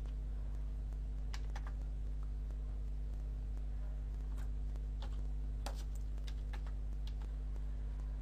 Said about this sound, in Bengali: তো আমি এখানে আমার ভেরিফিকেশন কোডটি বসাচ্ছি।